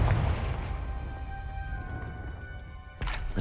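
A Confringo blast spell cast in Hogwarts Legacy opens with a deep, booming burst, then a low rumbling tail under faint tonal hum, and a second sharp impact lands near the end.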